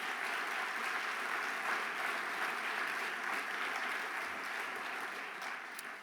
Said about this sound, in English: Can we give Mayor Benjamin one more round of applause